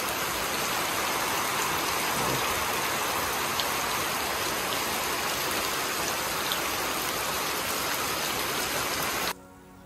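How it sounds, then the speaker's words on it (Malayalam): Heavy outdoor rain pours in a dense, steady hiss, loud and continuous with occasional drop spatters, before cutting off abruptly near the end. "നല്ല മഴ."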